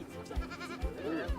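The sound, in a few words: goats bleating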